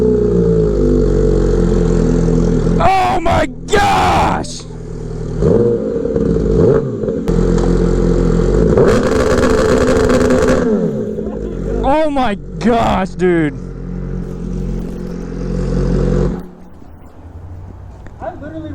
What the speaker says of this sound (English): I'll give you guys a launch control for those that didn't get to hear it.